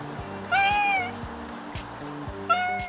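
A neighbourhood street cat lets out two clear, rising-and-falling meows, close and fairly loud, over a soft musical background.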